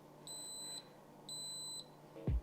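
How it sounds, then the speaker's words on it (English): An Instant Pot on its saute setting gives two clear, high electronic beeps about a second apart, faint and close in a quiet kitchen, followed by a brief low thump. "It's going to beep."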